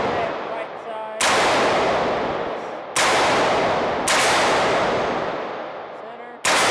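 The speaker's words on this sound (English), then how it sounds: "Hope you guys can hear all those hits on the steel targets." AR-15 rifle fire at an outdoor range with steel targets: four sharp, loud shots at irregular intervals, each followed by a long decaying ring and echo, with faint ringing between shots.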